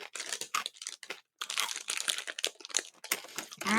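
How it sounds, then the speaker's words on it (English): Crunchy Korean fried noodles are bitten and chewed in a string of sharp, close crackling crunches with brief pauses between bites. "To say these are crunchy would be an understatement."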